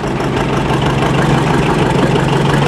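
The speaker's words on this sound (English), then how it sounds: "730 John Deere diesel, still a 2-cylinder" A late-1950s John Deere 730 two-cylinder diesel tractor runs close and loud at a festival, with a steady, throbbing low chug and a dense rumble that does not let up.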